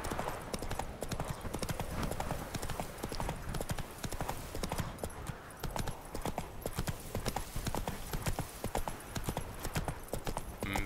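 Roach the horse trots along in The Witcher 3, hooves clip-clopping in a quick, steady rhythm that stays close and loud, with a brief whinny and some faint background sound from the game.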